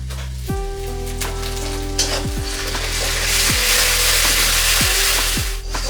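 Onions sizzle loudly in a pan while being cooked lightly brown for chicken lababdar, a dense steady frying hiss with stirring scrapes and a low hum underneath, close up and with no talk.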